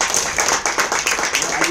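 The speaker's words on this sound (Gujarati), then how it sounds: "એમના માટે જોરદાર તાળી થઈ" Audience applause for a birthday, with steady hand clapping from a crowd that continues without pause beneath a speaking voice.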